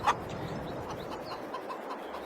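A big rooster clucking on a farm in Farming Simulator 22, one louder cluck at the start followed by softer scattered clucks and chirps over a steady low background hum, with no voices.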